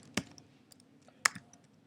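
Two crisp clicks from a computer keyboard, well apart and close by, with faint tapping between them while someone codes.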